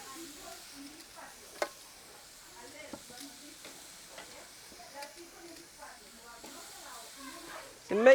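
Spicy BBQ chicken wings sizzle and crackle in a pan, a soft steady hiss with small pops, faint and close, before a brief louder burst at the end.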